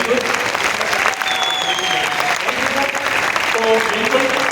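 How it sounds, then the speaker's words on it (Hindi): Indoor crowd applauding after a ceremony in which people stood to clap, steady dense clapping throughout with voices talking over it. "एक बार हम सब लोग खड़े होकर सबके लिए ताली बजा देंगे"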